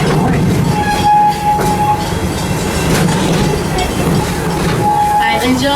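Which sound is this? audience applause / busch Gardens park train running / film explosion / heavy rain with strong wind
busch Gardens park train running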